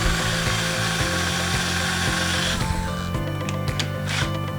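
A power drill driving screws into a wooden birdhouse: a loud buzzing drill motor with a pulsing low rumble, cutting off partway through, followed by quieter scraping and a few faint clicks.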